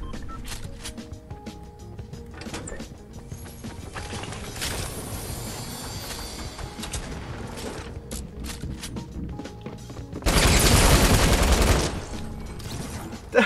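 Light machine gun in Fortnite firing in sustained bursts of rapid shots, with a louder, denser burst of gunfire near the end and mechanical clatter throughout.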